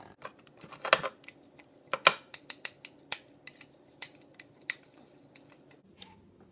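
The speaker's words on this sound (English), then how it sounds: "We're going to take a spoon and we're going to stir it together." A spoon stirs seasonings, sauces and garlic together in a bowl, giving sharp, irregular clinks and taps against the side, close and fairly quiet with gaps between strikes.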